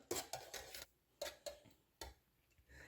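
Quiet clinks and scrapes of a utensil against a pot as a milk and oil mixture is stirred, repeating in an uneven rhythm with soft pauses between strokes.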